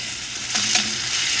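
Onions with whole cumin seeds frying in a pan, a steady close sizzle with a soft stirring scrape midway, no voices.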